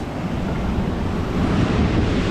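Ocean surf washes onto a coral beach at South Point, Hawaii, a loud, steady roar of breaking water mixed with wind buffeting the microphone, swelling slightly toward the end.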